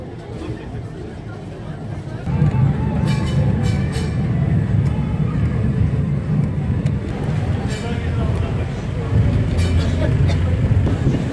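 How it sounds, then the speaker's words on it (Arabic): Rumble of a tram riding along İstiklal Avenue in Istanbul, a steady low rolling drone that swells after a couple of seconds, with crowd babble and street noise mixed in throughout. "لنستقل الترام لنصل للناحية الأخرى من الشارع"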